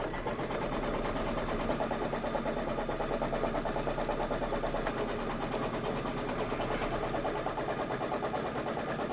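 An embroidery sewing machine stitches out a design step, a fast, steady mechanical chatter of needle strokes running continuously at close range.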